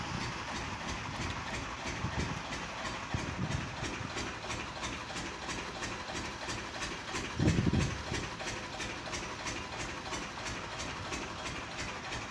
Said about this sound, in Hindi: हमने इंजन चलवा रखा